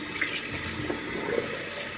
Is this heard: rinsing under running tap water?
yes